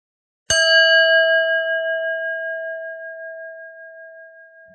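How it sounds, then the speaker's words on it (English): A single mindfulness bell struck once, a clear bright ring that sustains and slowly fades over several seconds in an otherwise silent room. "staying alert for when you hear the sound of the bell."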